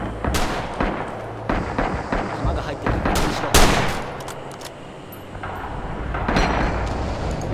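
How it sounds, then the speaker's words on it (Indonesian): Enemy artillery fire and gunfire in the video game Red Orchestra 2, a series of sharp, loud blasts and booms scattered irregularly across the battlefield amid ongoing combat noise. "Aduh, artileri musuh"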